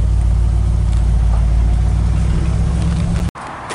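Engine of a 1964 Ford F100 short bed hot rod truck runs steadily with a deep, loud low rumble, then cuts off abruptly near the end, leaving quieter ambient noise.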